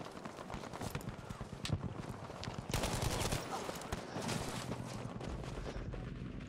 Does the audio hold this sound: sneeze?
no